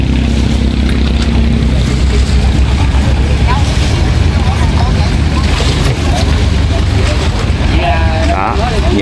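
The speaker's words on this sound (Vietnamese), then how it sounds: "những cái ghe khóm nè các bạn, ở xa về ha, thì ở đây người ta sẽ chở vào" Boats on the river at the Cai Rang floating market in Vietnam rumble with loud, steady engine drone, wind buffeting and water noise, while people talk over it throughout.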